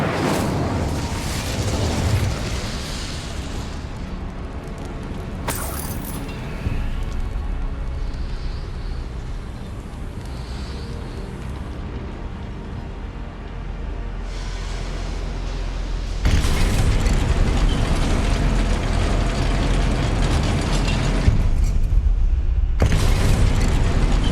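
Fire spell Incendio cast in Hogwarts Legacy, a dense roaring blast of flame and booming bursts that swells and cuts off in sections, loud and continuous with no talk.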